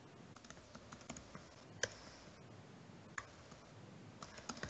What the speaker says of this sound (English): just typing down things as you're talking, Ron.